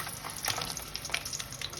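Eight sausages sizzling and spitting in very hot oil in a tray, a steady close crackle with sharp pops scattered throughout, no voices.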